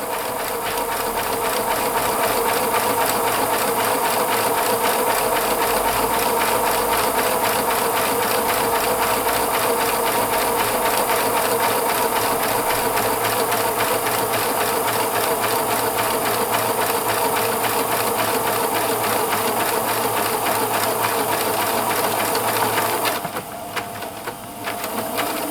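A Pfaff Classic Style sewing machine stitches a buttonhole with its buttonhole foot, a loud continuous rapid motor whir and needle chatter running steadily throughout, pausing briefly near the end.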